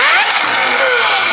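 A loud, high-pitched SVJ V12 supercar engine screams as it revs, its pitch sweeping up and then easing down, close by and sustained throughout.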